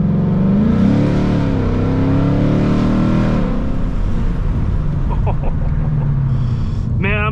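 A Mustang's engine revs hard during an acceleration pull, the pitch climbing steadily before dropping back and pulling again, loud and continuous from inside the car.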